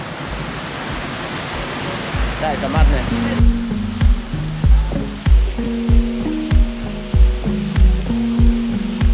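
Falling water heard from a spot behind a waterfall in Wales, a dense steady rush that is loudest early on and then sits under rhythmic knocking and tonal sounds, with a voice speaking briefly.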